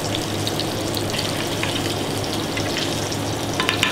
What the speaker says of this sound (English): lobster, put already in some butter